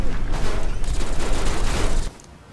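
Gunfire in Fallout 3 comes as a dense, rapid burst of shots, loud and close, lasting about two seconds before cutting off abruptly.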